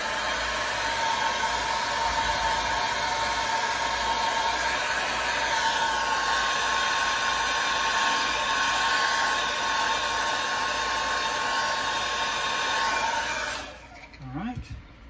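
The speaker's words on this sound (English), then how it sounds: "let's go ahead and heat set this real quick." A heat gun blows a steady, loud whooshing roar while heat-setting a homemade bass lure, running nearly unbroken for about thirteen seconds before cutting off with a brief clatter at the end.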